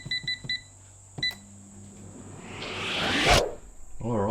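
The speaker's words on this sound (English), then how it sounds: "Alright, well the timer's gone off" An air fryer timer baking potatoes at 200 degrees beeps in a quick burst of three bright tones, then a single beep, followed by a rising whoosh and a clunk.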